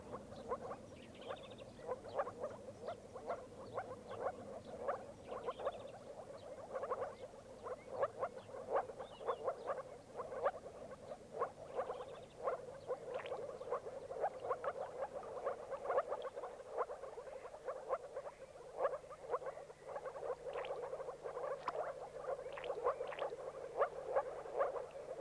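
Moor frogs call in a marsh at Store Mosse in Sweden. Soft, rapid croaks overlap into a continuous chorus, moderately distant and fairly quiet.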